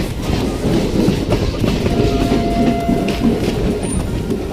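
A passenger train hauled by a diesel locomotive rolls along the tracks toward Theruvali station in Odisha, a steady close rumble with rhythmic clickety-clack of wheels over rail joints throughout.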